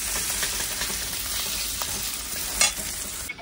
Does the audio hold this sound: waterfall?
no